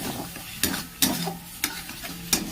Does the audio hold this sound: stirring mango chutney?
yes